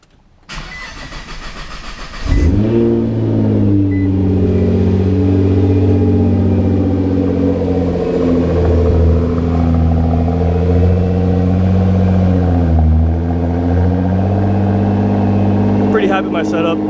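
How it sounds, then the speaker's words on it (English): A Nissan GT-R with an HKS exhaust, mid-pipe and Speed by Design downpipes, running on E85, cold-starts after a short crank. It catches with a loud burst and then holds a deep, steady, close idle with a slight dip partway through. "So here's a cold start. It's on E85 right now"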